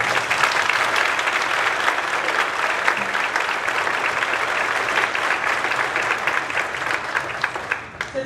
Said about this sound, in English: and I think they should be applauded for that